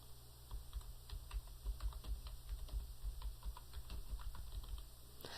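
Steady, fairly faint clatter of fingers typing on a computer keyboard while entering a bill item, quick uneven keystrokes continuing throughout with no talk.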